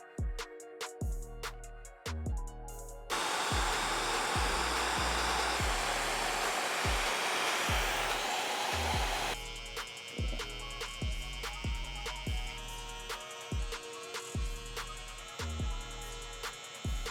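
Electric hair trimmers buzz continuously while a barber sets hard lines in a skin fade, the steady loud whir swelling in the middle under a strong low rhythmic beat of background music, with no talking.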